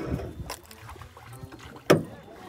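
A boat moving on water, with steady splashing and wash against the hull, wind rumbling on the microphone, and a sharp slap of water near the end.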